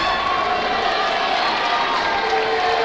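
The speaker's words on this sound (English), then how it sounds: "the Washburn bench applauding the move" Bench players and crowd at a 2014 high school boys basketball game between Minneapolis Washburn and Minneapolis North raise a steady, dense roar of applause and cheering in a busy gym, continuous and fairly loud throughout.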